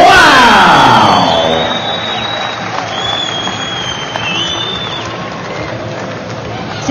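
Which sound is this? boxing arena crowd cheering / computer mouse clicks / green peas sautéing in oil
boxing arena crowd cheering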